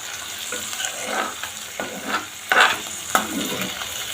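Cauliflower is sautéed in an oiled pan for a potato masiyal, with a continuous close sizzle and repeated stirring scrapes and taps.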